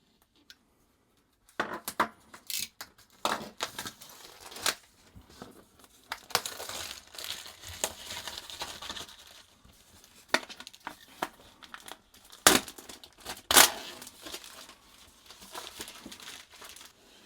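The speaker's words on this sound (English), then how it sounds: "we're going to have to remove all of this plastic" Plastic shrink wrap crinkles and tears in irregular bursts, close and fairly loud, as it is stripped off an MSI MEG X870E Godlike motherboard box, with no talking.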